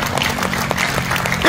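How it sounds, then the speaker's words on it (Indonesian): A church audience claps in a brief, dense burst of applause, steady and fairly loud, with a few indistinct voices mixed in. "jangan tanggung-tanggung kalau kasih tepuk tangan"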